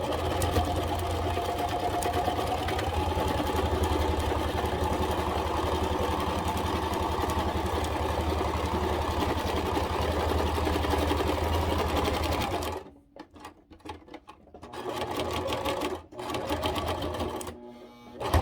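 A sewing machine stitching Halloween kitchen towels hums in a steady, loud, rapid run for about twelve seconds, then stops, followed by a few short stop-start bursts of stitching.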